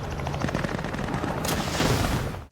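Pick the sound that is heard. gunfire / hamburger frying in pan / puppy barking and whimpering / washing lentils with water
gunfire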